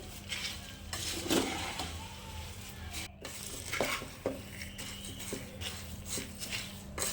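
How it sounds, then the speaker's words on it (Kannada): Puffed rice (mandakki) is stirred with salt in a pan for mandakki oggarne, making soft, continuous scraping and rustling with occasional light clinks of the utensil against the metal, fairly quiet. "ಸೇರಿಸಿ ಮಿಕ್ಸ್ ಮಾಡ್ಕೊಳ್ಳಿ"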